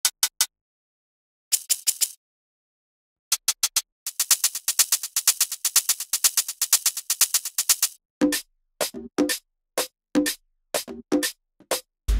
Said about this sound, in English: I also created a hi-hat loop to have more excitement in the highs.